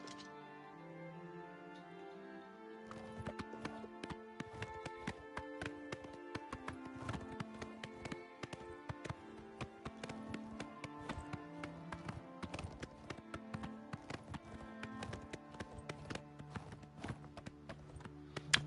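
A horse gallops in the video game Oblivion Remastered, its hooves clip-clopping in a quick steady rhythm that starts after a short quiet lead-in and runs on through the clip alongside game music.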